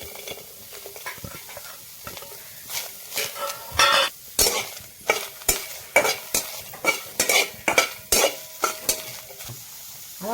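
Onions stirred in a pan for a dry Maharashtrian dingri (radish pod) bhaji, with repeated scraping and clattering strokes over a soft sizzle, close and fairly loud, no voices.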